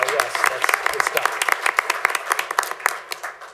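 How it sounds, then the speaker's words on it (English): A room at a school district board meeting gives a round of applause, a steady burst of many hands clapping together at close range, with no voices over it. "So let's start by giving them a round of applause."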